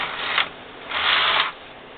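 A Singer knitting machine carriage is pushed across the needle bed to knit a row, giving close mechanical clacking and whirring in two bursts separated by a brief lull, with no talking.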